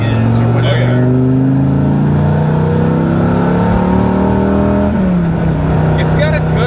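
A Dodge Viper V10 rumbles and revs nearby, a deep loud engine drone that climbs in pitch and then drops near the end, with people talking over it.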